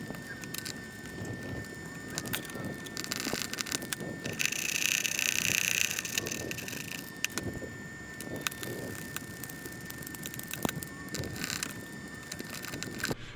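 Ratchet turning an E10 socket on Porsche Macan (95B.1) coil pack screws, a series of faint clicking pawl strokes under steady garage background noise, with no talk.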